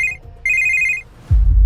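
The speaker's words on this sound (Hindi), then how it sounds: "तभी अनिका को आया एक ऐसा फोन कॉल" Two bursts of a telephone bell ringing alone, a short ring then a longer one, loud and close, followed by a low rumbling thud.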